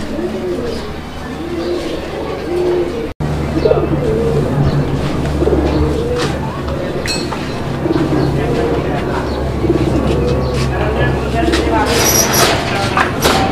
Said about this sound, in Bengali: একদম ভরপুর ডাক মাশাআল্লাহ, ভরপুর ডাকের কবুতর